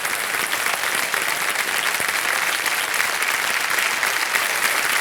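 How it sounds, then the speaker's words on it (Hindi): Steady, dense studio audience applause from a Kaun Banega Crorepati game show, a continuous clapping crowd that holds at even loudness throughout with no talking over it. "तालियां बज जाए इनके लिए"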